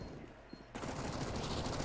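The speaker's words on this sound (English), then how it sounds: "If they didn't know, they certainly know now with all the gunfire happening." Gunfire in a competitive shooter video game match on the map Cache, a brief quiet stretch before a dense, loud burst of rapid shots that continues steadily to the end.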